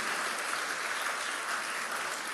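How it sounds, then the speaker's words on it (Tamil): An audience at a birthday celebration event for a Tamil Nadu deputy chief minister claps loudly, a dense and continuous roar of many hands with no breaks. "எவ்வளவு சத்தமா கைத்தட்ட முடியுமோ அவ்வளவு சத்தமா ஒரு வாட்டி கைத்தட்டுங்களேன்"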